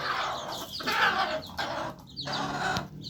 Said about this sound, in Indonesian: Giring ayam begini kalau giring ayam.